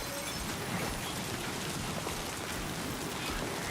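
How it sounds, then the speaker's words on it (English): Rain falling steadily, a dense, even hiss of drops striking surfaces that stays constant and fairly close throughout, with no voices heard. "Oh, rain letting up."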